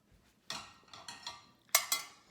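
A cooking pan for black bean and poblano filling is handled in a kitchen, giving several light metallic clanks and scrapes, with two sharper bright knocks near the end, close and otherwise quiet.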